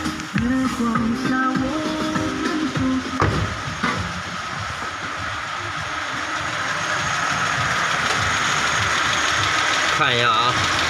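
A car with an oil leak traced to its oil pressure sensor idles steadily with a low, even hum, while voices murmur briefly near the start and end.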